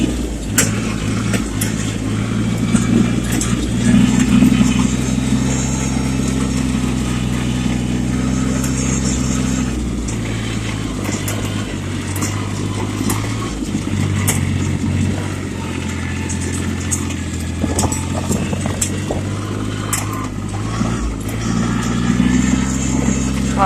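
Tractor engine running steadily close by, its throttle rising and dipping in small bounces as the pedal shifts, with a constant low rumble throughout.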